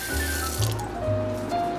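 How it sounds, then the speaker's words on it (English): Water runs steadily from a kitchen faucet while basmati rice is being prepared, a continuous close hiss and splash with no voices. "Shut that water off."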